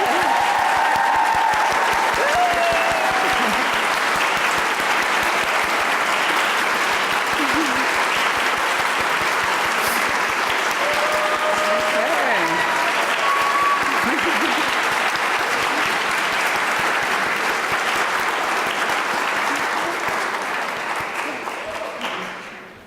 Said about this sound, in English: I think we should have a round of applause.